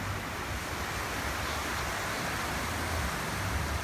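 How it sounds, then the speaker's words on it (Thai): Sea waves washing onto the beach at Hat Suan Son, a soft continuous surf wash with light wind, steady and fairly faint, with no voices. "ดูทะเลไปก่อนครับ"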